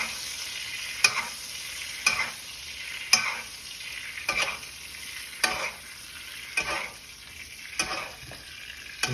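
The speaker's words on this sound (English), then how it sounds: "And baste the steak with that garlic and that butter." Ribeye steak pan-searing in garlic and butter while being basted, a constant close sizzle broken by about eight regular spoon scrapes and splashes, with no talk.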